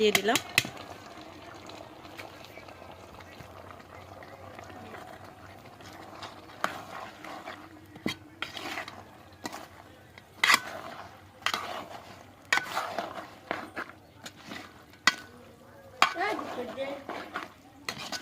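Spices with chickpeas and potatoes stirred in a pan, giving intermittent scraping and clinking strokes of utensil on metal, growing busier toward the end, over a low steady background hum with faint voices.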